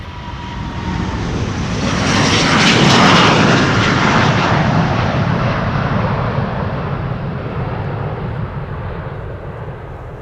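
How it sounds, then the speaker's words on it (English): A Delta Airlines Airbus A330neo jet takes off from the Polderbaan runway 36L at Amsterdam Schiphol in rain showers, its loud broadband engine roar swelling to a peak and then holding steady, close and continuous, with no voices. "This is Delta Airlines flight 57 going to Salt Lake City,"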